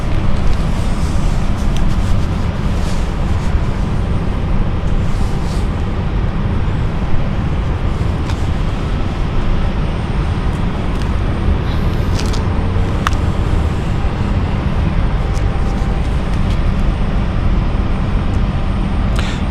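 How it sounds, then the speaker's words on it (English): A Swiss-operated Embraer 190 E2 jet at London City Airport produces a broad, steady roar that stays constant throughout, with faint intermittent clicks and bumps on top. "This is the Embraer 190 E2, operated by Swiss."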